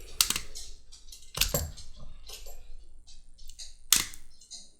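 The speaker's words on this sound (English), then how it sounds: "And I put 2 staples in it." A heavy-duty stapler drives wide staples into folded leather rifle sling keepers, three sharp metallic snaps standing out over faint handling clicks and rustles in a quiet room.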